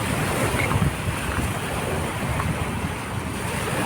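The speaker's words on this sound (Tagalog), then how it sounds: "ang sarap ng ano ng lagaslas ng alon sa dalampasigan mga bayan, parang humahalik ang alon sa dalampasigan" Gentle waves lap along the shore of Manila Bay's Dolomite Beach, a soft continuous wash of surf under light wind, steady and fairly faint with no voices.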